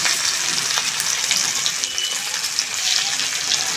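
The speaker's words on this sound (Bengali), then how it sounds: "এই পর্যায়ে দিয়ে দিচ্ছি পরিমাণ মতো পেঁয়াজ কুচি।" Chopped onion goes into hot oil with bay leaf and dried chilli in a rustic village-style kitchen, giving a steady, close, loud sizzle with crackling and no voices.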